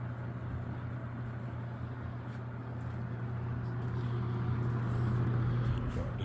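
A 1990s Toastmaster 4435 20-inch box fan with a Macmillan motor runs on low speed, giving a steady, even whoosh of moving air with a constant low motor hum throughout, swelling slightly louder toward the end.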